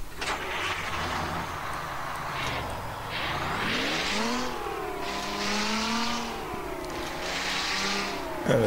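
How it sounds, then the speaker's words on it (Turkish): A modded truck engine in American Truck Simulator revs and accelerates, rising and falling in pitch through several gear-like sweeps, loud and steady throughout with a brief louder burst at the end. "Şu motorun sesini bir duyalım önce."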